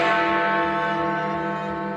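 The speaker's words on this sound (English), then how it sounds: "but this time we're only ringing 1 bell." A single large bell in Big Ben's Elizabeth Tower, struck by a hammer, rings out once loud and near, its rich tone slowly decaying.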